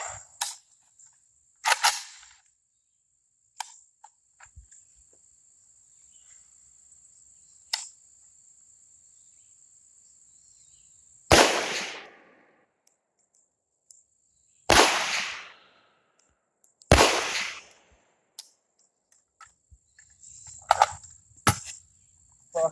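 An AK rifle fires during offhand shooting practice, with several loud, sharp single shots spaced seconds apart and quiet gaps between them, plus a few lighter handling clicks.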